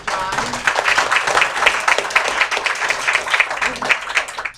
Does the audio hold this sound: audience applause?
yes